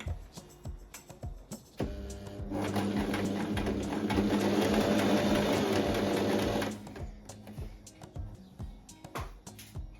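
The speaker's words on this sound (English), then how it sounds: "we're gonna sew as close as possible to the lower black line so we can take out all our pins" Sewing machine stitching a contrast trim on a summer dress, with a few clicks and handling, then a steady fast mechanical whir for about four seconds, followed by more clicking and fabric handling.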